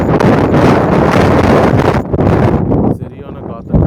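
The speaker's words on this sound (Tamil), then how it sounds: "சரியான காற்று, நிற்கவே முடியாது." Strong gusty wind buffets the microphone on a rocky Taiwan seashore, a loud continuous roar that dips briefly near the end, with someone talking under it.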